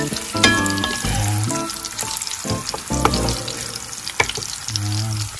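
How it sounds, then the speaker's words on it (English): Sausage frying in a pan on a home kitchen stove, a steady close sizzle running throughout, with clinks and stirring sounds over it and a person speaking briefly. "Another 2 to 3 minutes of frying."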